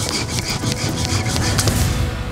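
A wire saw rasps steadily back and forth through a pig's tusk, a loud, continuous gritty rubbing with rhythmic strokes and no talking.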